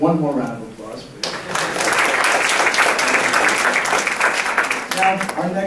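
A round of applause from the audience at a student education talk, steady dense clapping that swells in after a brief voiced lead-in and carries on to the end.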